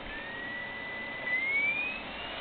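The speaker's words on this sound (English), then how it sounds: "You hear it spin up." A thin mechanical whine rises in pitch as an old printer's motor spins up over a low hum, fairly close, then settles back.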